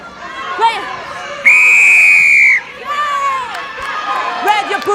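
A referee's whistle at a women's U20 rugby match between Wales and Italy, one long loud steady blast of about a second, ringing out over crowd noise and shouting.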